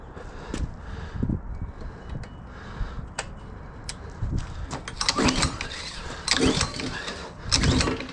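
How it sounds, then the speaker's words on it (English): Someone tries to start an old Honda pressure washer engine that has sat unused for a long time. Ticks and clicks come first, then rough mechanical bursts that grow louder, but the engine never settles into a steady run. "Hope this thing fires up. I haven't used this pressure washer in a long time."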